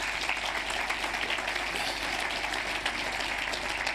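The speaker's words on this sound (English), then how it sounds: "Let's give them a round of applause" Audience applause at a public event, a steady dense wash of clapping held at an even level for the whole stretch with no voices over it.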